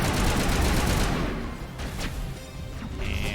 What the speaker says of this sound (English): And assault rifle.